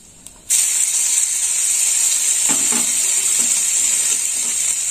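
Green chili paste hits hot oil already tempered with five-spice and dried red chilies, bursting into a loud, sustained sizzle that hisses steadily after a sudden start.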